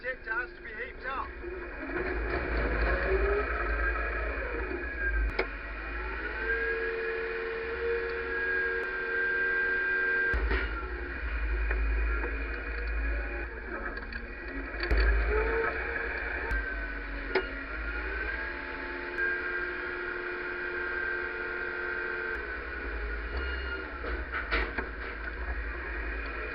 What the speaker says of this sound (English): it goes up that elevator there, along that conveyor and in the top of the dryer there